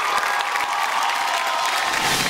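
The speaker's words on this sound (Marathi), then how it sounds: "जोरदार टाळ्या होऊन जाऊ दे." An audience at a women's game show applauds with steady, loud clapping that fills the whole moment without pause.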